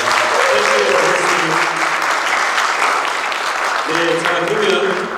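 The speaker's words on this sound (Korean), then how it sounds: "박수 부탁드립니다" A Korean community welcome ceremony crowd claps loudly for newly elected first-term officials, a dense continuous burst with voices speaking over the start and end.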